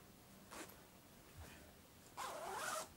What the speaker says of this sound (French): Là je vous montre la fermeture éclair.